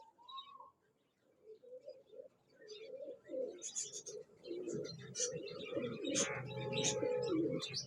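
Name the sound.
pigeons cooing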